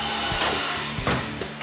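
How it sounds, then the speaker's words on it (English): Excess rod is cut off during a house build with a rough, continuous grinding or sawing noise, close and steady, with a few rasping strokes. "lops off the excess rod"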